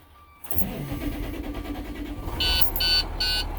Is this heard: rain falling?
no